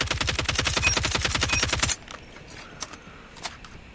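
Rapid automatic LK24 rifle fire in Call of Duty, a dense burst of loud, evenly spaced shots lasting about two seconds, then a few scattered faint clicks and thuds.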